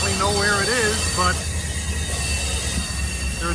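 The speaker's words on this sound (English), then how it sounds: "there are 2 more trains that are coming in from DC." A CSX, MARC or Amtrak train rolls along the old B&O line in the Potomac Valley with a loud, steady rumble, while squealing wheels whine at the start and fade into the continuous rolling noise.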